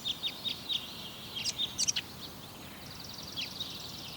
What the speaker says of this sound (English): The Great Tit,